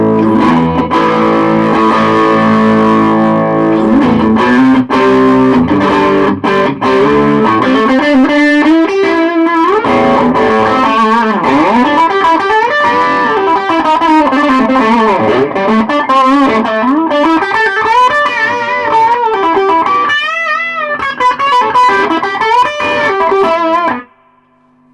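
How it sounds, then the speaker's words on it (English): An electric guitar plays through a Peavey ValveKing VK112 amp with distortion switched on, giving a loud, continuous, dense distorted tone with shifting notes and chords. It cuts off at the end. "I've got the foot switch in so I can put on distortion"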